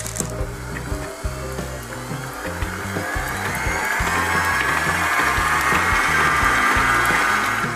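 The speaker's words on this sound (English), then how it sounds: "So we start by putting the butter and the cream cheese together and whipping that all up." Electric mixer whipping butter and cream cheese together for a gluten-free summer fruit cupcake frosting, a steady motor whine that rises and brightens as the beating continues, with soft rhythmic rattling underneath and no talk.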